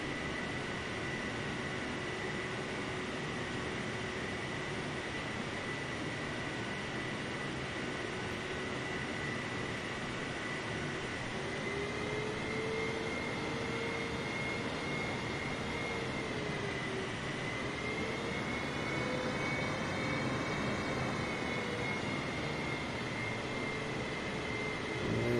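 Steady, continuous drone of a simulated aircraft engine in Microsoft Flight Simulator, with a sustained tonal whine that slowly bends in pitch, loud and unbroken, with no voices.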